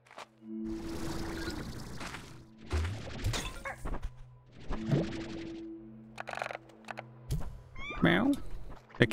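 Cats meowing in the Slime Rancher 2 video game, several short mewing calls over a steady background music drone, mixed with clattering and smashing game effects.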